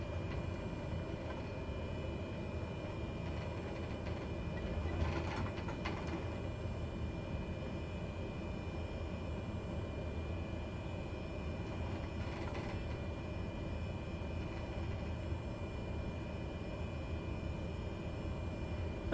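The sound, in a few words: Cessna 208 taxiing, from video game Microsoft Flight Simulator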